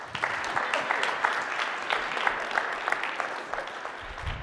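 An audience at a business meetup panel claps together in a dense, sustained burst of applause that holds steady for several seconds.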